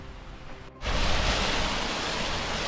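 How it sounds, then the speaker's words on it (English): Small waterfall dropping into a plunge pool at the top of Hang Gill in Scotland's Southern Uplands, a steady loud rushing roar of water that swells in abruptly after a quieter moment and holds constant, near and alone. "There's a lovely little waterfall there and a nice plunge pool."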